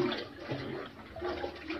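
Cold fresh water drawn from underground pours and splashes steadily at close range, a continuous broadband gush with slight surges and no voices.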